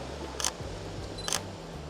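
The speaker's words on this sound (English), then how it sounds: "I love the sound of the shutter" Sony camera shutter firing twice, about a second apart, each a crisp close click over quiet background hiss.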